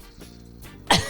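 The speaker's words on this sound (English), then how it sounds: "coughing." A person gives a single loud, close cough near the end, preceded by quiet room tone with faint, indistinct voice-like sounds.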